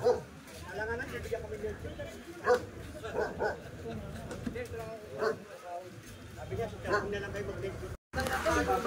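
A chained dog barks and yips repeatedly in short bursts at mid distance, with people talking nearby and some background noise.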